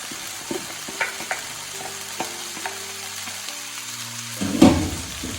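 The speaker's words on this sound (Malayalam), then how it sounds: "നേരത്തെ ഫ്രൈ ആക്കി വെച്ചിട്ടുള്ള സോയാബീൻ ഇതിലോട്ട് ആഡ് ചെയ്ത് കൊടുക്കുക" Fried soya chunks being stirred into masala in a hot pan, with a steady close sizzle of frying, scraping spoon strokes and a louder burst of sizzling near the end, no talking.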